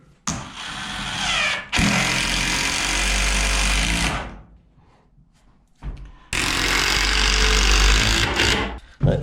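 A power driver sinks screws into reclaimed barn timber framing for a tiny log cabin bathroom, two long loud bursts of buzzing drive separated by a quiet pause with brief handling noises.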